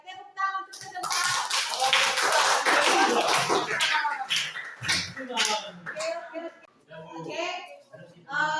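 A classroom of children breaks into a burst of clapping that lasts a few seconds, then fades as a teacher and children talk.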